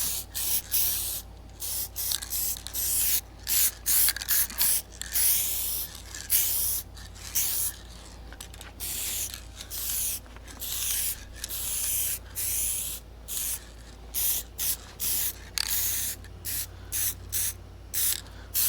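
Aerosol spray coating a laser engraved wood sign, loud hissing bursts repeated in quick succession with short gaps, close and steady, with no talking.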